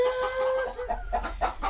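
Backyard hens clucking in short, uneven bursts, fairly close and moderately loud, with no talk over them.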